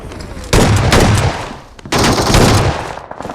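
Rapid automatic S12K shotgun fire in a mobile battle video game, two loud, close bursts of shots separated by a short lull.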